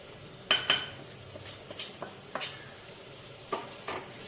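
Prawns seasoned with chilli powder and salt sizzle faintly in a pan, with a few sharp clinks and scrapes of a utensil stirring at irregular intervals, close and fairly quiet with no talking.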